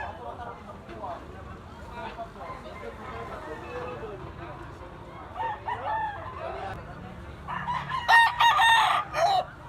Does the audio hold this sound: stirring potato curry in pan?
no